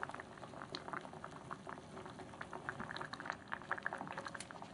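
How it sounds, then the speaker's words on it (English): A pot of water with kabocha squash boils on the stove, with irregular bubbling and popping that keeps going quietly and close by, with no speech. "it's been boiling for about 5 or 6 minutes"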